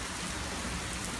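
Heavy rain pouring during a Florida thunderstorm, a dense continuous hiss of drops on surfaces throughout, with no voices.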